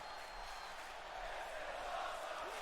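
Arena crowd noise in a WWE 2K wrestling video game, set in Orlando, a dense, continuous roar of cheering that swells slightly and holds steady throughout.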